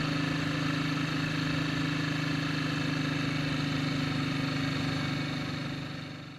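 A BSA C15 motorcycle engine idles steadily with an even mid-pitched thrum and a light mechanical rattle, close and continuous, easing off slightly at the end, with no voices.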